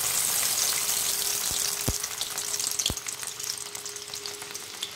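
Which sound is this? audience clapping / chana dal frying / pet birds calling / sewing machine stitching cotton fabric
chana dal frying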